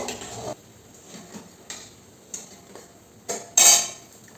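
A metal utensil clinks and scrapes against a pan while lifting fried fritters out, several separate close knocks spaced about a second apart, the last one louder and ringing.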